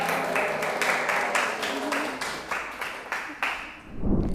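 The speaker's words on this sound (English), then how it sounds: "give applause round for all the presenters" Round of applause from a school audience for student presenters, a steady wash of clapping that swells and dips in waves before fading out near the end.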